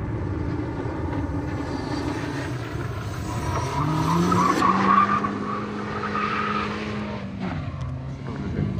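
Race cars compete at the first round of Lithuania's 2000 hill climb championship. Nearby engines roar with a rising, then falling whine as a car accelerates and passes, and tyre noise and faint crowd sound fill the background.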